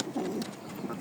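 Pigeons for sale, pairs of coloured birds, give soft low cooing in a brief close burst, murmuring continuously without any talk.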